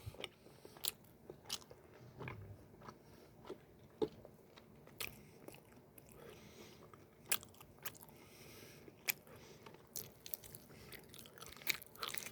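Plain rice cake being chewed up close for a mukbang, with soft sticky chewing and small intermittent crunchy bites in a steady rhythm, quiet and without talk.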